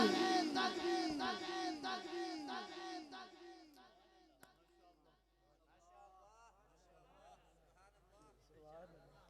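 Large crowd chanting loudly in unison in response to a religious slogan call at an Islamic gathering, a series of rhythmic shouted phrases that grow fainter and more scattered as the chant trails off.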